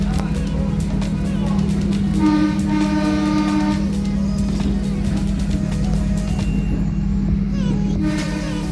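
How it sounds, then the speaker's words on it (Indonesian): Minangkabau Express airport train pulling away from a stop, a steady low rumble of running gear and motors with faint rail clatter and a brief whine, continuous and close from inside the carriage. "keretanya udah mulai jalan lagi, siap melanjutkan perjalanan menuju stasiun bandara"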